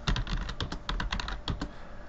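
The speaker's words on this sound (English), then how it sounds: "I can come in here and type in whatever I want" Rapid typing on a computer keyboard in dental office software, a close, steady run of clicking keystrokes, about two dozen taps in quick succession with no voices.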